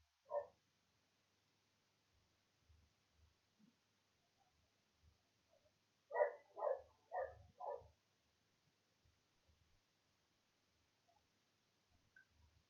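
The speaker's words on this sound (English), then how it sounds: "Is that dog barking doing me head in?" A dog barks in the background, one single bark followed a few seconds later by a quick run of four barks, with long quiet stretches between and faint low knocks.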